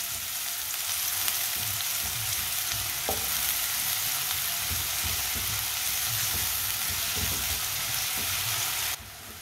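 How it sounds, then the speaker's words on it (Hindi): Finely chopped spinach fries in hot oil, giving a continuous loud sizzle with occasional stirring clatter for several seconds before the sound drops slightly at the end. "पालक को ना 1 मिनट के लिए पका लेते हैं ऑयल में।"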